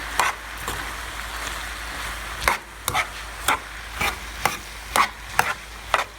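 Sugar gets mixed into a sauce mixture for Vietnamese shrimp noodles, with a run of regular clinking, scraping stirs over a faint background hiss, close by and unaccompanied by talk.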